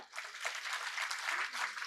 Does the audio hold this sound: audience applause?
yes